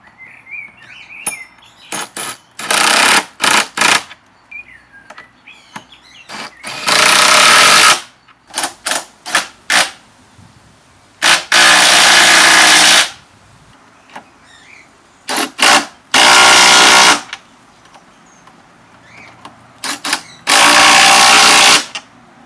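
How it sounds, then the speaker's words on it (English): An impact driver runs nuts onto bolts in repeated loud bursts of roughly one to two seconds each, separated by pauses filled with quieter handling clatter and faint bird chirps outdoors. "My apprentice will now demonstrate putting nuts on bolts with the impact driver."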